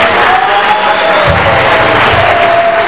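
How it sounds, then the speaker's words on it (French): Loud applause for Fulbert Ndibé at a farm-tool donation ceremony, a dense, roaring wash of clapping from a large crowd, steady and intense throughout, with a low rumble joining partway through. "que nous applaudissons très fort"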